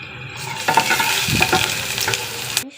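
Garlic sizzles in a hot pan with stirring, a steady loud frying hiss broken by a few scraping stirs before it cuts off abruptly.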